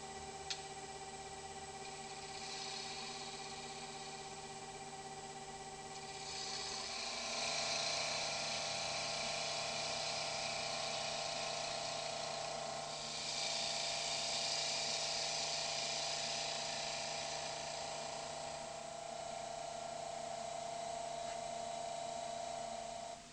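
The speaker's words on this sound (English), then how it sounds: "Switch on the lathe and turn the centre dish." A wood lathe spins steadily while a centre dish is turned on an eccentric chuck, giving a continuous motor hum with a rising cutting hiss as the tool engages the wood. No one speaks.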